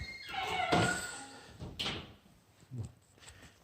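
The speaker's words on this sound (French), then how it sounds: "on va prendre cette porte pour se diriger aux étages" A door in an apartment building's ground-floor area leading to the stairs opens and closes, with a couple of clunks and a latch thud, fairly close, amid light room noise.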